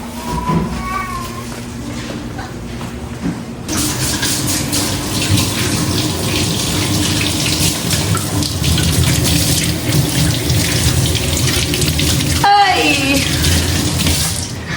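Water runs steadily from a tap in a home being set up, a loud continuous splashing that starts a few seconds in and continues, with a brief exclamation and some faint talk around it.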